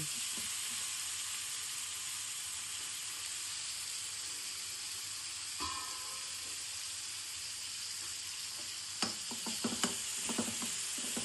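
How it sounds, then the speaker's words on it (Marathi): Sweet potato pieces frying in oil in a covered pan, a steady soft sizzle running throughout, with a few light clinks and stirring knocks near the end. "थोडस असं आपण तेलामध्ये फ्राय करू आणि ह्याला झाकून ठेवतो"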